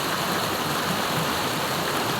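Water from a spring in Japan pours in a continuous, even rush of broadband splashing, moderately loud and steady throughout with no voices.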